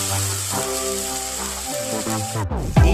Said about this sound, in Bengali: দিয়ে ভালো করে মশলাটাকে ভেজে নেব।